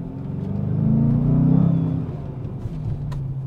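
A Dodge Challenger R/T Shaker with a V8 engine revs up, its deep rumble swelling to a peak and then easing back to a steady idle, loud and close with no talk.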